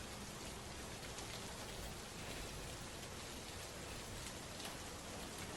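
Steady, dense rain falling and pattering on a surface, a continuous even hiss with no voices.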